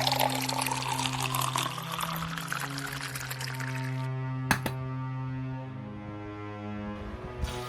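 Water pours in a steady, close stream into pure 99% alcohol to dilute it for illicit liquor in Gujarat. The flow stops after about four seconds, leaving a low hum and a single brief knock.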